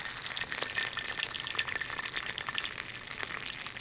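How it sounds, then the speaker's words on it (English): Water poured into a tea cup over about one and a half teaspoons of loose tea leaves, a steady close-up splashing and trickling that runs for a few seconds without talk. "Pour in water."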